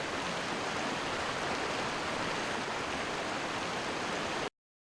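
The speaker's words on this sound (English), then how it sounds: "I hate that waterfall. It's so fucking loud." A loud waterfall in the video game The Talos Principle, a dense, steady roar of rushing water filling the sound completely, then cutting off abruptly near the end.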